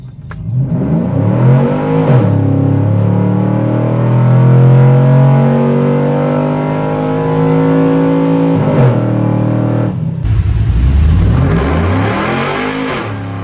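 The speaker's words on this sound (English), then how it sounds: "I'm just gonna roll into the throttle." A cammed LS3 V8 in a Chevy Trailblazer SS roars loud and close on a dyno. The engine climbs in pitch through the gears, with brief dips at the shifts before the run cuts off.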